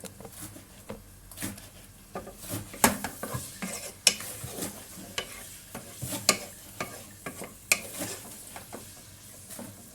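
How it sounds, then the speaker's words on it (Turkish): Ingredients for an iftar soup are lightly sautéed in a pan, with a soft continuous sizzle under repeated scraping and clinking as a utensil stirs against the pan. "Şimdi hafif onları soteleyeceğim."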